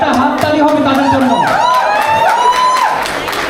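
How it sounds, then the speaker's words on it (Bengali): A crowd at a 30th wedding anniversary celebration claps and cheers for the couple, with whooping voices rising and falling over a dense, lively burst of applause. "জোরে একটা হাততালি হবে তাদের জন্য"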